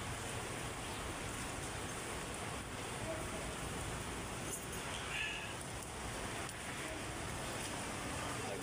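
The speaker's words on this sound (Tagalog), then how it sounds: "Umuulan na naman, wala na bang katapusan?" Steady rain pours down during a mid-shift police duty, a dense continuous hiss that stays loud and even throughout with no talking.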